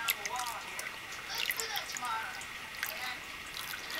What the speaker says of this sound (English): So I'm just pouring the lye water in slowly.